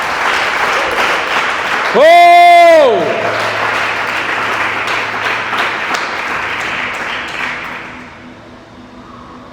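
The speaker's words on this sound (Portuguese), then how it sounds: "aplauda Jesus," A church congregation claps steadily during a sermon while one voice lets out a loud sung shout; the applause carries on under murmuring and fades near the end.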